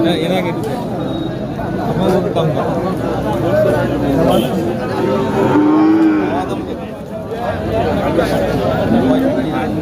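Cattle low amid a busy crowd at a cattle market, with people talking and a general hubbub nearby.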